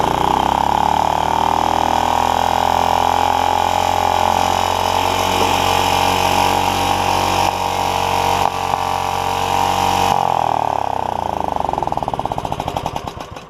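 A Honda HR194 lawn mower engine, fitted with an old hardened fuel line and a stuck throttle, runs loudly and steadily at high revs close by for the whole stretch, then winds down unevenly near the end.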